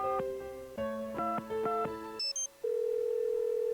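A telephone in the Nancy Drew: Secrets Can Kill game: a tone sequence of steady harmonic beeps and two brief high blips, followed by a long, even, continuous tone, loud and alone.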